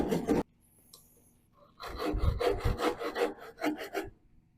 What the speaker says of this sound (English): And finish it off with the handsaw.